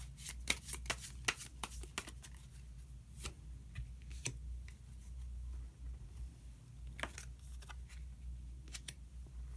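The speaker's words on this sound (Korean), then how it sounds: "카드 한 장을 더 뽑고 이야기 계속 나누도록 하겠습니다" Tarot cards are shuffled and drawn by hand, close crisp riffling and flicking in quick bursts with short pauses, over a low steady hum and no speech.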